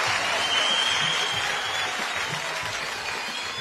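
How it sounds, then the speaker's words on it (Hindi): Loud, sustained audience applause, a thick continuous roar of clapping from a large crowd with faint voices beneath. "जोरदार तालियां"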